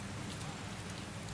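Steady rain falls in an England street scene in the video game Watch Dogs Legion, a continuous even hiss of drops on surfaces with no other sounds standing out.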